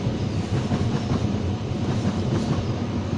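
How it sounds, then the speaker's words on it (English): A train rumbles past close by, a loud continuous roar with faint rhythmic clacking of wheels on the rails. "Sorry for the train sounds there"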